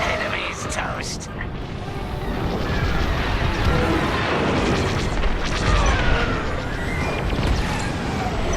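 An enemy starfighter blows apart in Star Wars Squadrons, a booming crash that swells into a long, rumbling wash of explosion and engine noise, with voices speaking over it.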